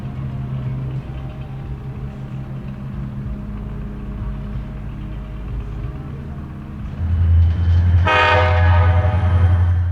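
An Alstom grey SD40-3 locomotive on the Aberdeen Carolina and Western rumbles steadily with a deep engine drone, then its horn blasts loud and close, sustained to the end.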